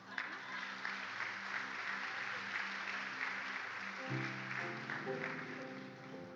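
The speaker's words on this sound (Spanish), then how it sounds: "Dale un aplauso al Señor" A church congregation applauding during a service, a steady, moderately quiet clatter of many hands sustained over several seconds, with musical tones underneath.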